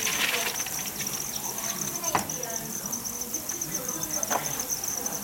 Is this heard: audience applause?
no